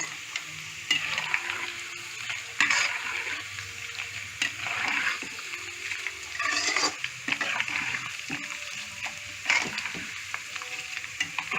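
A potato and chilli powder mixture is mixed by hand or spoon in a bowl, giving soft, wet squelching and scraping sounds in irregular bursts, close and moderately quiet, with no talking.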